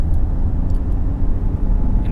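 A 2020 Toyota Corolla sedan with a 121-horsepower engine accelerates, giving a steady, loud, low engine drone and road rumble heard from inside the car, with no talking.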